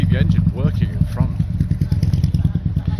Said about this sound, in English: Let's just see the engine working in front.